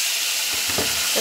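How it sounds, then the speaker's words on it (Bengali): Turmeric and chili paste sizzling in hot oil in a pan for a fish-head and tomato curry, a loud continuous frying hiss with a few brief crackling spurts as it is stirred. "একটু ভেজে নেব।"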